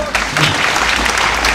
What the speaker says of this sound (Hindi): जितनी तालियां अब तक नहीं बजी होंगी